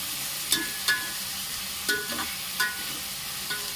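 A spoon scrapes and stirs ingredients with added salt in a sizzling pan, giving several distinct clinks and scrapes over a steady frying hiss, with no talking.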